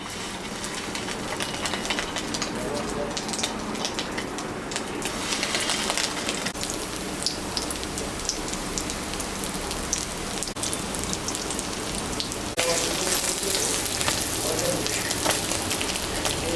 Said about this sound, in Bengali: তেলটা গরম হয়ে গেছে, আমি এখন বড়াটা ভাজবো।